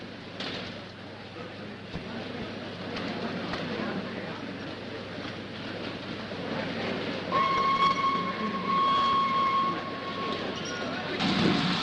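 A 1930s train travels with a steady, rumbling clatter throughout, and a sustained whistle tone rises near the end; a voice speaks over the noise.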